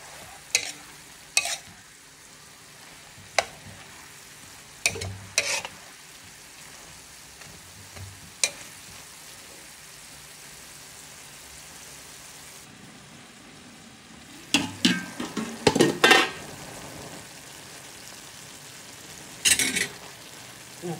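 Adobong kangkong with butter cooking in a pan: a soft continuous sizzle under scattered sharp clacks and scrapes of a spoon stirring, with denser clattering bursts later, nearby and without voices.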